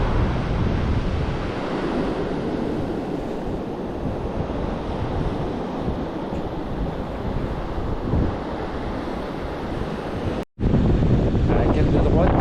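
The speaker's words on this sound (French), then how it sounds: "ça bouge un peu parce qu'il y a un petit peu de vague et puis un peu de vent" Sea waves wash steadily onto a beach during a surfcasting fishing session, with wind buffeting the microphone in a continuous roar for about ten seconds, a brief dropout, then the surf and gusts resume.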